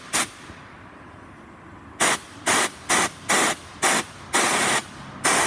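Compressed air blasted into a body seam of a 2013 Citroën DS3 Sportif during a water leak test: seven sharp, loud hissing bursts, one early and then six in a quick, uneven series, with quiet gaps between them.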